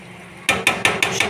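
A lid set onto a cooking pot while Bengali mocha fish curry cooks, giving about five sharp metallic clatters in quick succession, close and fairly loud, with no talk over them.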